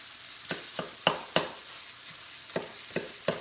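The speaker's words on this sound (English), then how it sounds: "cook up your tomatoes and jalapenos and it looks just like that" Tomatoes and jalapeños cooking in a pan, a soft sizzle beneath a series of sharp scraping stirs and clacks of a utensil, about eight strokes at an uneven pace.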